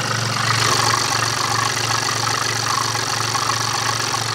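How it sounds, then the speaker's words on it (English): A BMW engine idles with a faint knock from the top end and a deep exhaust rumble from a blowing exhaust, a steady low pulsing drone held close and even throughout, with no voices. "There's like a deep kind of rumble as well, but I'm pretty sure that's from the exhaust."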